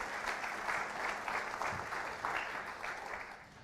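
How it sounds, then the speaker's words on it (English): Congregation at a religious service applauds a woman who shared a story, a soft, even patter of many hands clapping continuously for a few seconds, somewhat distant and quiet. "So let's give her a round of applause for that."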